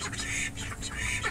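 A duck quacks in a quick, rattling series of raspy calls, close and fairly loud over steady background noise.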